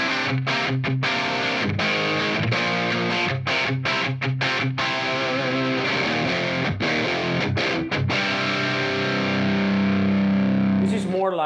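Electric guitar played through a Fender Pugilist distortion pedal set as a transparent overdrive with slightly lifted high mids, strummed chords and riffs ringing loud and sustained, close up, with a held note at the end.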